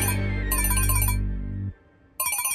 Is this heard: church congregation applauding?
no